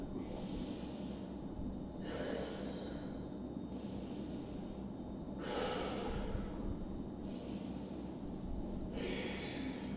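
Deep, slow breathing during a yoga back stretch, with long airy inhales and exhales coming in several broad surges over a steady low background hum, close and clear, with no talking.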